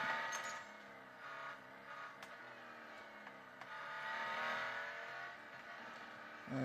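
Koenigsegg One:1 engine in Real Racing 3 revs and pulls through a corner, rising and falling in pitch as it accelerates, steady and moderately loud with a few faint clicks.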